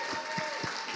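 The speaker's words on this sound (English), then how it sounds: "Round of applause, yes." Brief burst of steady audience applause at a student program gathering, a moderate wash of clapping with no voices over it.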